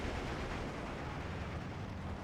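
Bombs bursting in the wartime strategy game Steel Division 2, heard as a dense, continuous rumbling roar of explosions that stays loud and steady for a couple of seconds with no talk.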